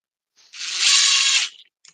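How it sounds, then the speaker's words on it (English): A power drill drives a screw in a single loud burst of whirring and ratcheting lasting about a second, with brief clicks before and after. "Maybe I should stop putting screws in."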